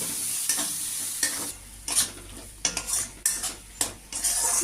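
A utensil stirs shrimp masala with Kashmiri chili powder in a hot pan, giving repeated scraping strokes over a steady sizzle, close and fairly loud with no speech.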